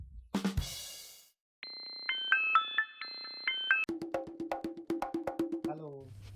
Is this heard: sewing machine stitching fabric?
no